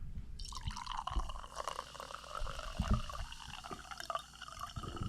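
Mountain Dew soda pours into a glass in a close, quiet stream, with gurgling liquid and a faint fizzy hiss lasting several seconds and no voices over it.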